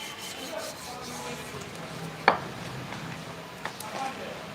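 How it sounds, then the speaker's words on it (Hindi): Hand-made roti dough is rubbed and worked in a home setting, producing quiet, continuous scraping and rubbing with one sharper tap, faint against the room's background. "रोटी बना रही हूँ।"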